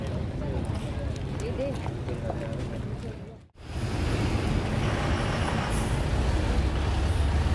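Road traffic jam with buses and trucks, a dense rumble of idling and crawling engines heard close by, briefly cut out midway, then louder, with occasional voices.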